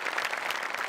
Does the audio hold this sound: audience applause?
yes